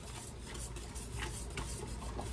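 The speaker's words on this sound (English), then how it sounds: "whisk, whisk, whisk, whisk, whisk" A whisk stirring watermelon jam in a pot: continuous scraping and swishing with light metallic rubbing against the pot, steady and close, faint overall.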